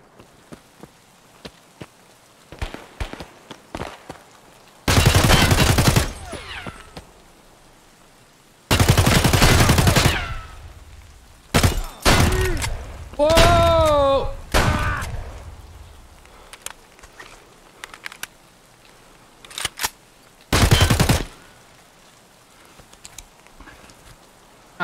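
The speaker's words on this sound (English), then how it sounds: "someone's shooting at the guy" Gunfire in Escape from Tarkov on the Customs map, scattered sharp bursts and single shots at varying distance, with several loud close volleys separated by quieter gaps.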